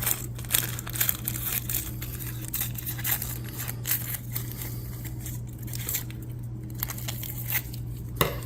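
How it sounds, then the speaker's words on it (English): Scissors cut out a paper circle in a series of close crisp snips and crinkles of paper, irregular in rhythm over several seconds with no talking. "I'm going to cut out this circle"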